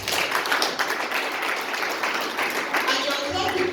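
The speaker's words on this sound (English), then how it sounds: "And you're clapping because when you get a commission, I get a commission." An audience at a talk applauds, a dense, steady wash of clapping that runs throughout at moderate loudness with voices mixed in.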